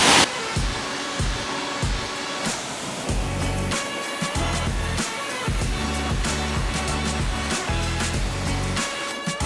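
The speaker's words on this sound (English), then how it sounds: "I'm gonna go for a final rinse." A car wheel gets a final rinse with a strong water spray during detailing, a loud continuous hiss that pulses and shifts as the jet sweeps across the wheel, close by with no voices.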